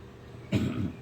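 A single short throat clearing, close and moderately loud, following a brief stretch of quiet room noise.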